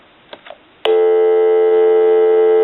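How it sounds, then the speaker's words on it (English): A telephone dial tone from a tone generator comes on abruptly after a couple of soft clicks, then holds as a loud, steady, unbroken tone. "bring dial tone on, take dial tone away"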